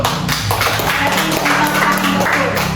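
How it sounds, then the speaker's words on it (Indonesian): A classroom of students claps hands together during a religious education lesson, a dense, steady patter of many hands at close range, mixed with some murmuring voices. "tepuk tangan dulu"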